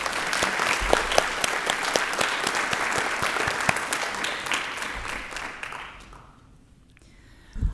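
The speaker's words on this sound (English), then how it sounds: "Let's give them one more round of applause." Audience applause at a school district board of trustees meeting, steady and full for about six seconds before fading out, with a brief sound at the end.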